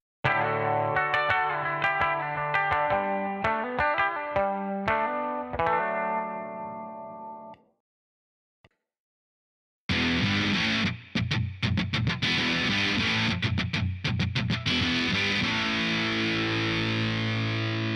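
Electric guitar run through amp and effects models in GarageBand '11: clean, chorused melodic notes ring out first, then a short silence with a faint tick, then a loud, dense wall of distorted, echoing rock chords.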